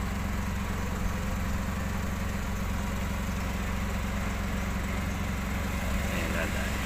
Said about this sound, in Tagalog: Ang dami eh, may mga motor, saka sasakyan.